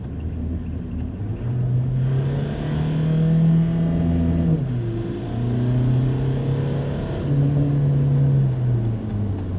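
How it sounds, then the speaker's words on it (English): A Volkswagen TDI diesel engine with a DSG gearbox held in manual mode revs up to redline and holds there, rising in steady pitch sweeps with brief dips between pulls, loud and close with no talking. "That was me manual shifting, so it'll hold red line as long as you want."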